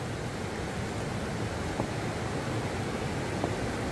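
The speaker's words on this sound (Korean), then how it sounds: "물이 끊임없이 쏟아지네요." Water from a waterfall pours steadily into a mountain valley, a constant broadband rushing hiss at moderate distance, unbroken and without voices.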